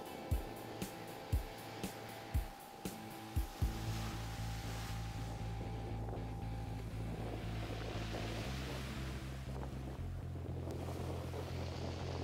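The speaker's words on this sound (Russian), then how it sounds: "Можно подойти поближе к морю, смотреть на волны." Sea waves in a small winter storm wash steadily against the shore with wind noise, after a few sharp knocks in the opening seconds; a steady low hum runs beneath.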